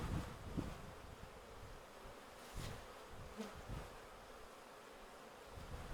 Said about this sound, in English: It's a good amount of bees in here though.